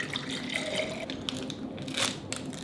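Chilled water is poured into powdered freeze-dried fruit smoothie mix, a faint, steady trickle with small splashy drips against a soft background hiss.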